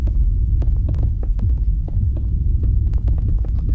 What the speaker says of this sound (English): if you're hearing that loud noise in the recording, Cody made a sundial